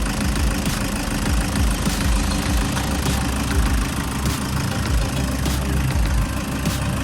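A 2012 van's engine runs at idle close up, a loud, continuous mid-pitched rumble with a steady knocking pulse and vibration, heard alone without voices.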